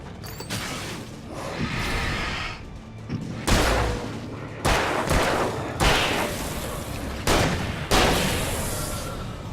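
Revolver gunshots in the video game Alan Wake: a series of loud, sharp booming shots spaced a second or two apart, mixed with mechanical game noise and background rumble, no talking.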